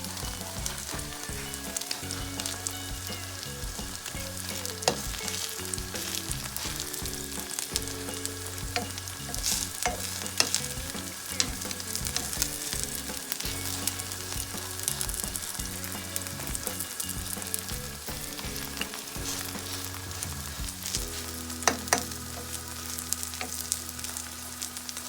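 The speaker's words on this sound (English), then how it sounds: "Let it cook in medium heat for a few more minutes." Thin vegetable pancake batter cooking in a pan over medium heat, producing a continuous crackling sizzle with scattered pops, steady and close, with no talking.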